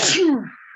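One brief, loud sneeze sounds close up, a sharp burst with a quick falling voiced tail, heard alone.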